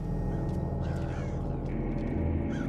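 A bird in the game Thief caws a few times over a loud, droning low rumble of ambient game sound, with the calls fairly clear above the hum.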